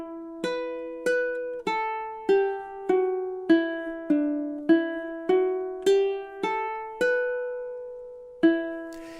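High G ukulele picking God Rest Ye Merry Gentlemen in campanella style, with clear single plucked notes ringing into each other at an even, moderate pace, alone and close.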